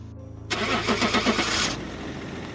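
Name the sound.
car engine starting and driving away, sound effect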